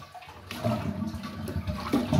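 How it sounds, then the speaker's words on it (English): A toilet flushed with its handle during a siphon and coupling kit replacement releases a steady rush of water, rising and gurgling slightly louder toward the end, heard up close and alone. "When we flush the handle,"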